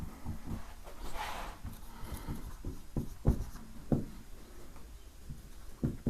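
Pen or pencil writing on paper in a quiet room, with scratchy strokes and soft taps coming in irregular bursts, close and faint, with no talk.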